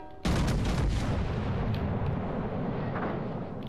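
Heavy naval gunfire from an enemy ship in a warship video game, with a sudden loud boom followed by a sustained rumbling roar that slowly fades.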